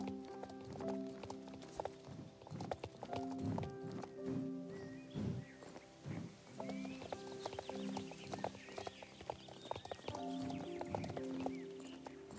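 Horses in a video game clop their hooves in an uneven, repeated rhythm, with soft snorts and occasional whinnies over a layered in-game musical background.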